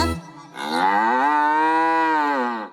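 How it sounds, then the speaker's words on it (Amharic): A single long, loud cow moo, rising and holding steady for about two seconds before tapering off, close by. "እንዴ ባቶሊቶ ይቺማ ላም ናት"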